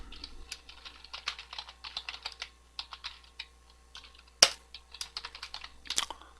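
Rapid clicking of a computer keyboard during Java algorithm coding, with bursts of keystrokes and one sharp, louder press standing out near the end, close and clear with no talking.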